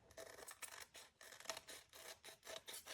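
Scissors snip through three stacked layers of paper in quick, quiet, crisp strokes, close up and on their own.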